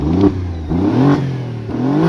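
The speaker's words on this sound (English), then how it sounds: "Get back out, that way you guys can take a listen to the exhaust here. A little throaty, sounds pretty good for a V6. Let me do a little rev." Alfa Romeo Giulia Quadrifoglio V6 revved while parked, its throaty exhaust rising and falling in three short blips, close and clear with no talking.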